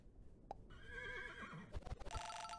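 A horse neighs in the Super Auto Pets video game, a quiet wavering whinny followed by a few short thumps and a bright chiming game jingle, with no talk.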